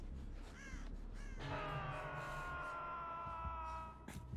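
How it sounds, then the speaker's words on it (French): Crows caw repeatedly in Dead by Daylight, a loud harsh burst starting about a third of the way in and holding steady, calls layered over a low ambient game background. "Elle va envoyer des corbeaux."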